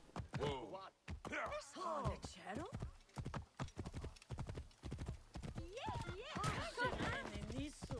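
A horse in the video game Assassin's Creed Origins clip-clops with rapid, steady hoofbeats throughout, with whinnies and someone talking over it.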